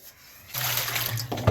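Water runs and splashes in a sink as vegetables are washed for a simple brinjal curry, a short, close burst of steady splashing that starts suddenly after a quiet moment.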